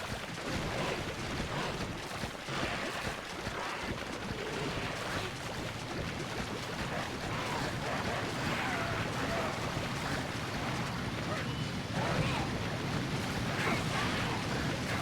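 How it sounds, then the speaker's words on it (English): A steady, broadband rushing roar of a waterfall fills a Monster Hunter game environment, constant and close with slight swells, with no voices. "The waterfall, of course, is quite striking as well."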